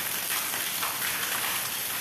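Steady rain hisses down evenly, a dense wash of drops with no breaks, moderately loud and close.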